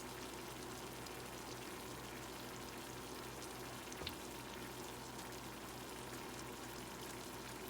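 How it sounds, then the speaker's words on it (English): Homemade fried tacos sizzle in hot oil in a pan, a steady close crackling hiss with no talk, broken only by one brief sharper pop near the middle. "So now this one is just frying up."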